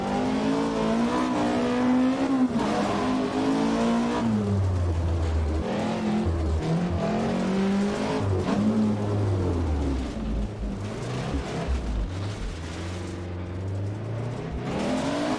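Rally car in Richard Burns Rally on the RAC Rally, engine roaring steadily at high revs with pitch rising and falling through gear changes and throttle lifts, loud and continuous with no talking.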